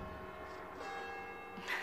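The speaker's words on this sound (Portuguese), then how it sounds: "Olha o sino da igreja. Adoro escutar barulho de sino" A church bell rings in a town in France, its tolling faint and distant beneath steady background noise, with a slightly louder stroke near the end.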